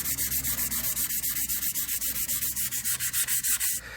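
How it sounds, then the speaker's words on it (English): Chrome metal is hand-sanded toward a brushed finish, a close rhythmic rasping of quick back-and-forth strokes, about six per second, steady and loud throughout before stopping near the end. "you have to sand it like this. To get the desirable finished look."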